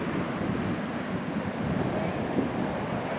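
Ocean surf at a Florida beach, a steady broad wash of waves and wind noise with no clear breaks, moderately loud and continuous.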